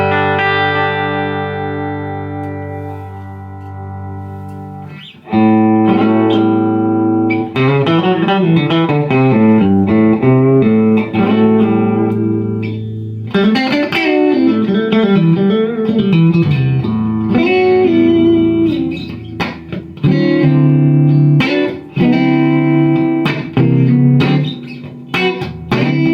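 An Ironhorse Heritage Blackface 1x12 combo amplifier switched to triode mode plays electric guitar: a sustained chord rings out, then loud, distorted melodic lines and strummed chords with reverb continue throughout, with no talking.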